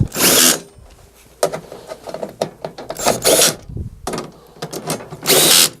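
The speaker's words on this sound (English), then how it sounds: "go ahead and finish tightening up the screws that hold the grill on" A power drill tightens the screws holding a grill on, in several short whirring bursts separated by pauses and small clicks, loud and close.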